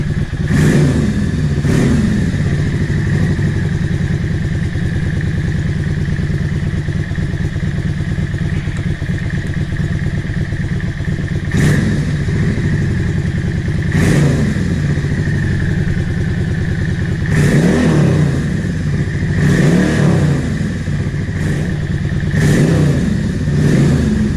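A Yamaha XVS650 motorcycle engine idling steadily and loudly up close, a continuous rough thrum with occasional brief throttle blips and clattery bursts throughout.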